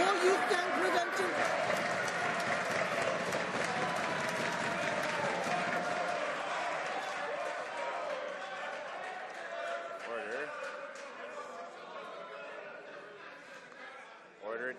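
Applause and desk-thumping from members in the House of Commons, a dense crowd noise with loud voices running through it, steady at first and thinning toward the end.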